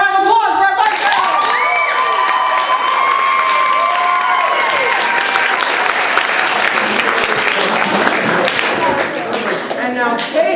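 An audience at an improv comedy show claps and cheers loudly for a panel, the applause dense and close. Whoops and shouted voices rise above it, with some excited children's shouts mixed in.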